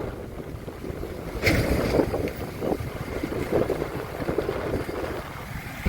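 The flooded Beas river rushes along in the rain, a broad, continuous outdoor roar of flowing water with gusty wind buffeting the microphone and brief louder surges.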